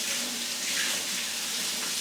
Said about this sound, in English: Yes, I'm running water